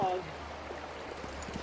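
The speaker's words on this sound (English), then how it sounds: "Really nice little creek here." A small creek flows in a steady, close wash of running water that continues evenly throughout.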